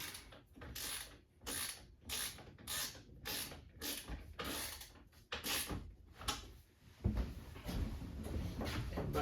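Ratcheting clicks and mechanical creaks come from tightening a Festool track saw setup in a mobile woodshop. Repeated close, moderately loud bursts of clicking follow a steady rhythm, then give way to heavier handling noise.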